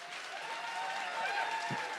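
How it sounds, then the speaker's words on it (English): A comedy podcast's live audience at the Edinburgh Fringe applauds steadily throughout, a dense wash of clapping with a faint voice briefly audible near the end. "Start the clapping"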